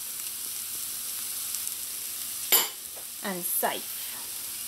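Onion, garlic and hot peppers fry in a pan with a steady, bright, close sizzle running the whole time, joined by brief clanks of a utensil being stirred and a few spoken words.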